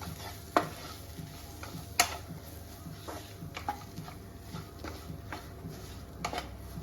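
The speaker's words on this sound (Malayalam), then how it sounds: "എന്നിട്ടിത് ഒന്നുകൂടെ നന്നായിട്ട് ഇളക്കാം." Chicken with shallots and a teaspoon of pepper powder being stirred in a pan, with scattered scraping clicks of the spoon over a low steady sizzle, a few sharper knocks standing out.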